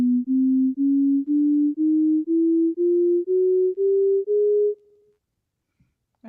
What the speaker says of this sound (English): this is what a equal tempered chromatic scale sounds like